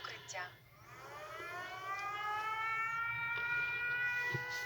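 An air raid siren in Ukraine wails in long rising and falling tones, sustained and fairly distant, with a brief voice and faint background sounds near the start.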